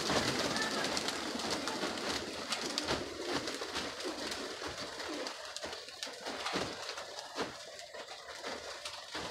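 A pigeon coos softly amid an outdoor bird-keeping setting, low repeated calls set against a busy background wash with faint distant rumble; no one speaks.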